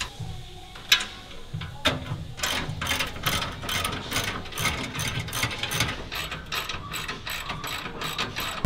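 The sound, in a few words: ratchet wrench removing exhaust bolts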